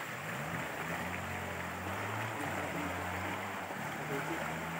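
Water pours down a waterfall on a rural property in Real, Quezon, making a constant, even rushing roar, while someone talks over it.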